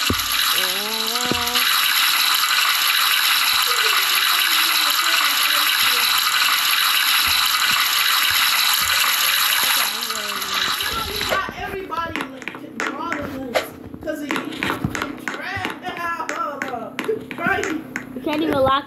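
A shower runs as a steady, loud rush of water for about ten seconds, then gives way to clattering and voices talking close by.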